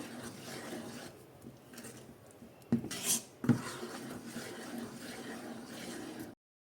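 A spoon scrapes and stirs thick sweet lentil filling mixed with powdered camphor in a pan, soft rubbing with a few sharper clinks of metal against the pan midway.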